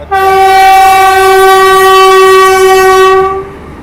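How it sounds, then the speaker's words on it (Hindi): A loud, sustained train horn blasts for about three and a half seconds as a passenger train approaches at an Indian railway crossing, the Indore–Bhopal Express, a steady harmonic tone that cuts off cleanly with no voices. "अभी देखो वेब 4 के साथ कोई ट्रेन आ रही है, क्रॉस करेगी यहाँ से"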